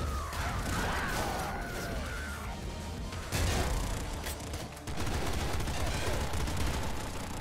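Shotgun blasts from the video game Nuclear Throne, Ultra Mod, fire in dense, rapid bursts that overlap into a near-continuous barrage of loud, crackling gunfire for the whole stretch.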